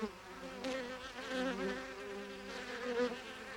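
Honeybees buzz continuously nearby, a dense humming drone with several wingbeat tones wavering as individual bees pass closer and drift away.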